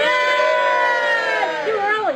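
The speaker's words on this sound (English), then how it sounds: "Give a cheer. Cheer." A group of people on a pub crawl cheering and whooping together, loud and sustained, with overlapping voices throughout.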